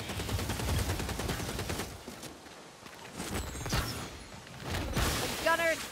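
Enemy gunners in Warhammer Vermintide fire rapid bursts of gunfire with whooshes and mechanical clatter, while a voice talks over the battle noise.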